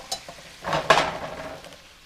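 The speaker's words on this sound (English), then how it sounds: "Give that a nice stir." Orecchiette pasta stirred in a pan, a couple of short scraping, sizzling sweeps of the spoon, close and fairly quiet, with no talking.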